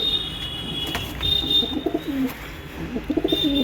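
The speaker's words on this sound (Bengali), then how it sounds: "এই আমার কালশিরা পায়রা" Kalshira pigeons coo at close range, giving two short bursts of throaty, rolling coos over a quiet room tone with a faint steady high whine.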